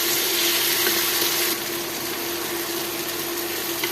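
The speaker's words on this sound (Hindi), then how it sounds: "इसको जस्ट 1-2 मिनट के लिए मिर्च को हम इसके साथ भूनेंगे।" Chilies and cumin fry in a pan for a potato and egg curry, giving a steady, close, crackling sizzle that runs without a break and drops slightly in intensity partway through.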